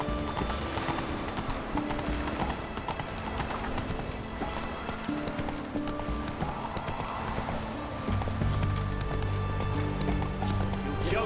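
Roach the horse gallops in The Witcher 3, with rapid, rhythmic hoofbeats thudding continuously and a whinny at one point. Music and faint game voices play underneath, and the hooves stay loud and close throughout.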